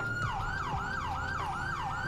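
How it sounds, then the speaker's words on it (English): Whelen Epsilon police siren on its first stage in a GTA V LSPDFR mod, a loud continuous wail sweeping up and down in a regular, repeating cycle several times over a faint engine rumble. "the first stage of the Siren"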